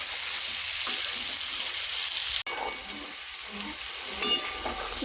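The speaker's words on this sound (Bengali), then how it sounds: "দু মিনিটের মতো এই আমটাকে আমি খুব ভালোভাবে কষিয়ে নিয়েছি।" Raw mango pieces for pickle sautéing in a pan over a medium gas flame, a steady soft sizzle and frying hiss with occasional stirring scrapes, close and continuous without talk.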